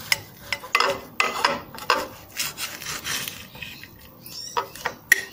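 A knife cuts through grilled turkey breast with close, irregular scraping and rasping strokes and sharp clicks against the board, spread in short bursts over several seconds.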